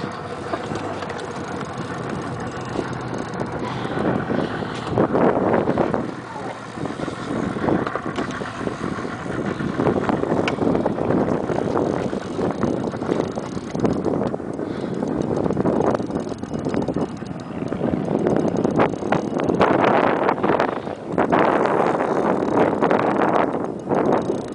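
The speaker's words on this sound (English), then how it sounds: "Probably tell it's a little windy out here." Wind roaring and buffeting the microphone outdoors while tarpon fishing, rising and falling in gusts over a long stretch with no clear speech.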